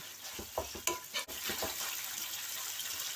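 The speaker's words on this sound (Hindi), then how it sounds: "हमने ऐसे मिक्स करते रहना है ताकि लम्प्स ना बने।" Mutton keema frying in a spoonful of oil, stirred continuously so no lumps form, with a broad steady sizzle and a few soft scraping strokes of the spoon near the start, no one speaking.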